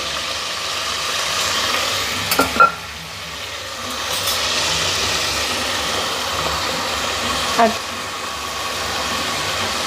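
Minced mutton keema frying in hot oil gives a continuous sizzling hiss, broken by a couple of sharp clanks from a utensil against the pan; moderately loud and close, with no speech.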